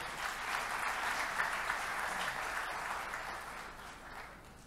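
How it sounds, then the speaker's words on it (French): Steady applause from a conference audience welcoming Aminata Touré, envoy of Senegal's president, to the stage at GGC 2025: a dense, even wash of many hands clapping at moderate distance, with no one speaking. "sous vos applaudissements, s'il vous plaît"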